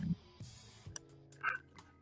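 A dog gives a few faint, brief yips and whimpers, with light outdoor background noise and scattered soft knocks.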